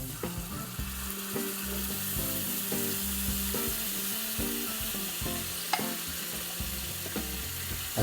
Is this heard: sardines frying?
yes